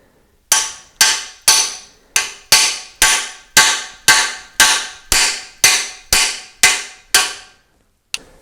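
A hammer drives a cup in on an Olds 455 engine, struck through a 15mm socket: about fourteen loud, evenly spaced metallic blows, each ringing briefly, with a pause before one final hit.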